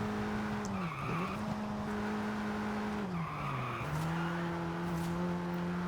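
A car in Forza Horizon 5 takes tight corners with tires squealing in long sustained skids, over a steady engine drone that dips and rises between two slides.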